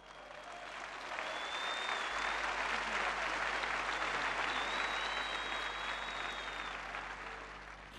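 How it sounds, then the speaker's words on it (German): Steady applause from an audience at a demonstration fills the air, dense and even, swelling in at the start and tapering slightly toward the end, with a few faint whistles over the clapping. "nun wird der Beifall gleich aufhören"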